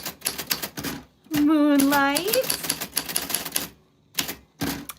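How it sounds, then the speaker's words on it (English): Names are typed on a manual typewriter in bursts of sharp, close key strikes, with a sustained sung or hummed voice over part of it and spoken words between the bursts of clacking. "right now I am typing everyone's names on the typewriter for fun"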